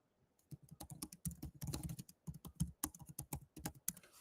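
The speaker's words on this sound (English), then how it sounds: "So for example, if I type in accelerate" Keys clatter on a computer keyboard in quick, uneven bursts of close taps, with short pauses between words, alone and without talk.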